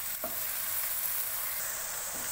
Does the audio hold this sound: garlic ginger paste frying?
yes